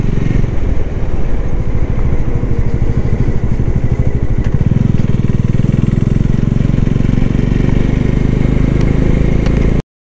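A motorcycle on a dangerous mountain road from Rishikesh toward Manali rumbles loudly and close in a steady throbbing drone, its tone deepening partway through before cutting off abruptly at the end.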